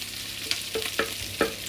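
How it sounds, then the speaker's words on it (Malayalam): Onions and chicken fry in a pan for Arabic majboos, with a soft sizzle under four or five quick, rhythmic scrapes of a spoon stirring close by. "ഇപ്പോൾ ഉള്ളി ശരിക്കൊന്ന് ചുവന്ന് വരുന്നവരെ നമുക്കൊന്ന് നന്നായിട്ട്"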